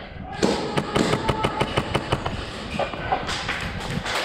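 Airsoft guns firing during a large urban milsim game, a rapid series of sharp cracks and snaps in quick succession, fairly close, with a voice speaking briefly among the shots.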